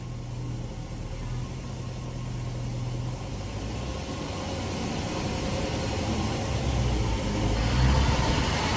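Jaguar drivetrain after a new transmission spinning up with a vibrating drive shaft, a steady low mechanical hum and rumble that gradually grows louder and rougher over the clip, no talking.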